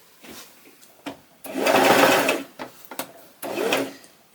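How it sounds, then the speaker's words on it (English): A sewing machine stitches the seam allowance around a square neckline, running in short bursts and then two longer steady runs, close and clear with no talking. "I'm just going to go ahead and sew it all the way around"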